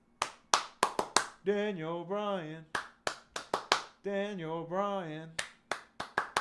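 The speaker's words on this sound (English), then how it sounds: "Why are we clapping?" Hands clap in sharp separate bursts, several together, between stretches of two people chanting a name over and over.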